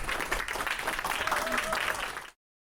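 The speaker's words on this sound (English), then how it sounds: "A round of applause, I think, for Michael Carroll, Rebecca Keegan" A crowd applauding steadily, dense clapping throughout that cuts off abruptly.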